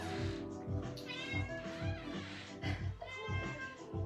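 A house cat meows repeatedly indoors during a home yoga session, a series of close, rhythmic cries roughly every half second, with someone talking softly underneath.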